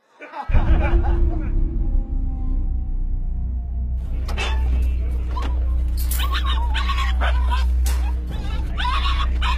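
Terrier dogs out ratting whimper and yip in short high cries over a loud, steady low rumble, with the yips growing busier in the second half.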